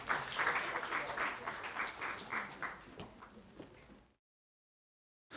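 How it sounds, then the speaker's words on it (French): A live audience applauds a volunteer who has come up on stage at a conference talk, a steady burst of clapping that fills the room for about four seconds and then stops dead into silence. "Allez, on l'applaudit, elle est courageuse."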